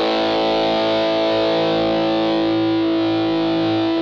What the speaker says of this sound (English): if you were maybe to like push this with the distortion pedal